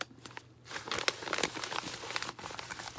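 A large paper envelope being handled, giving quiet, close crinkling and rustling with a few sharper crackles, sounding alone without speech.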